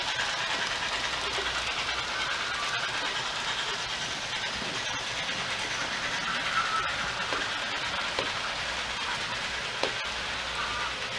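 A Kato N scale model train rolls steadily along its track with a continuous whirring rumble and faint clicking, close and fairly loud throughout.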